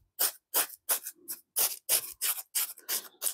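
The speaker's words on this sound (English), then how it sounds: "When your sugar has hardened crystals like this, you want to break it down just to make sure that you're using the right amounts." Hardened sugar crystals being broken up while preparing apple hibiscus wine: about ten rhythmic rasping, crunching strokes, close and crisp, with short gaps between them and no voices.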